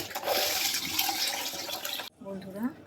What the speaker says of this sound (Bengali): বন্ধুরা, আমার বাসন মাজা কমপ্লিট